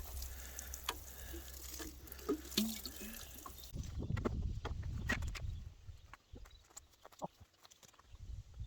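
Water splashes and trickles from a container onto potted plants, a running pour with drips that ends partway through, then quieter scattered drips, close by.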